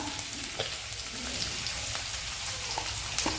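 Chopped onion sizzles steadily in hot oil in a pan for a spicy radish-leaf stir-fry, a dense continuous crackle with scattered sharper pops.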